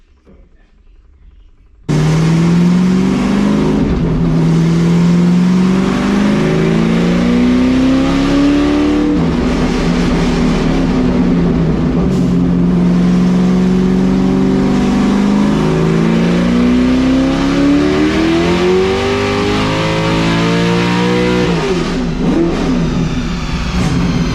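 Drag car engine on a small nitrous test hit, idling loudly up close, then revving in repeated rising and falling sweeps for about twenty seconds, with no talk over it.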